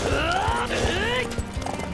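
Horse hooves clip-clop in a quick gallop while the horse whinnies, in the video game Samurai Warriors 5, with faint talk underneath.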